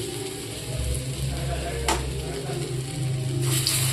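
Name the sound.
soya chunk paste frying in hot mustard oil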